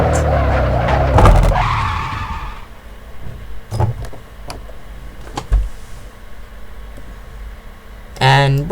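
Hard braking in Assetto Corsa, a racing car's tyres skidding and squealing loudly for about two seconds as the engine drops off, followed by quieter engine and mechanical noises and another brief squeal near the end.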